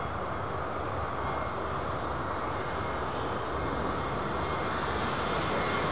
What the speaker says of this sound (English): This is Frontier's new green livery jet.